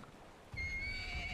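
A horse in a video game neighs with a long, drawn-out whinny after a brief quiet start, fairly close and clear, with no talking.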